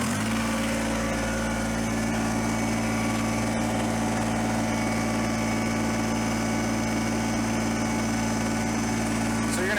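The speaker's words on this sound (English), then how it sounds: "we're going to bump this throttle up just so we move a little quicker." Small engine of a Kubota BX23S compact tractor with backhoe runs steadily at raised throttle, a constant loud drone with a low hum and buzzy overtones for the whole stretch, nothing else standing out.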